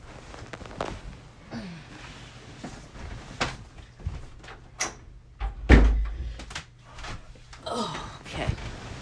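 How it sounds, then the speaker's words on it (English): A room door is shut partway through, landing as one solid thump near the six-second mark amid faint scattered household noise and small knocks, with no speech. "Let me get up and close this door"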